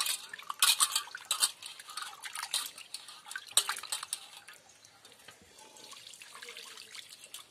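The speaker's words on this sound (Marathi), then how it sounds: "4 खेपो धुवायची, धुवून चांगली स्वच्छ करायची." Raw prawns are washed by hand in water, with splashing, dripping and light clattering of a vessel, busy at first and then quieter toward the end.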